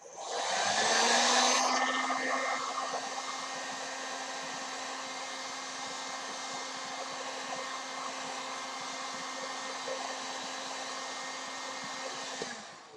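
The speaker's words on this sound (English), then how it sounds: "So take your heat gun" A heat gun blows hot air onto Worbla thermoplastic for cosplay armor, giving a steady whooshing drone with a constant motor hum that is louder at the start, then holds level until it cuts off at the end.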